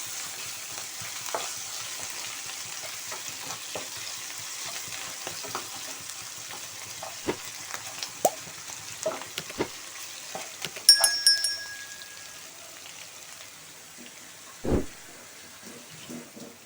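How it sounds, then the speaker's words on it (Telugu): Ginger garlic paste frying in masala for eggplant curry, a quiet, steady sizzle with scattered clicks of stirring and a few louder scrapes. "ఇప్పుడు అల్లం వెల్లుల్లి పేస్ట్ వస్తుంది. పచ్చివాసన పోయేదా వేయించుకున్నాం."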